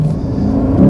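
A 2019 Lexus RC F launching hard from a standstill with traction control on, a loud, close engine roar with a low rumbling drone that swells toward the end of the short burst.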